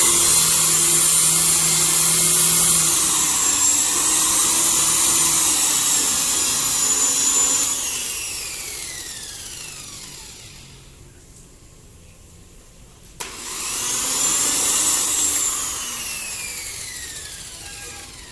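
A car buffing machine polishes the paint on a car body, whirring loud and steady up close. The tone sweeps and the machine winds down to near silence, then spins back up.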